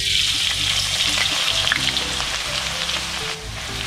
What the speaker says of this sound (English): I'm adding in some oil to fry the ginger for garnishing.